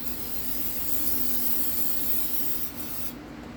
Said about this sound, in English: On this part you don't need to scrub, you just spray it to get the residue off of it.